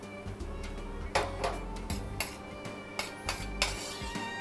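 Girolle mushrooms tipped into a frying pan with a little butter, giving a handful of light clinks and soft scrapes of pan and utensil over steady kitchen background noise.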